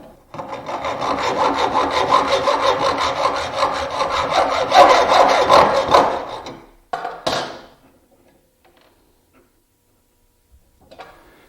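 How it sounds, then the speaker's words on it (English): A hacksaw cuts a small shelf pin to length, a loud, close rhythm of rapid back-and-forth rasping strokes for about six seconds, then it stops, followed by a couple of brief handling clicks and near silence. "slide my piece in and saw it off to length"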